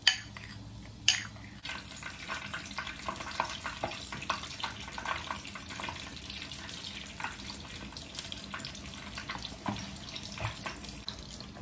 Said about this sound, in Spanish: También preparamos aquí ya el azúcar con la canela. Solamente vamos a revolver todo muy bien.